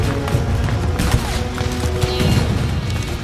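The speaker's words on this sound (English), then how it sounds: "But they're under heavy fire." Heavy gunfire in a Civil War battle at Gettysburg, a dense, loud, continuous fusillade of overlapping shots and booms with scattered sharper cracks throughout.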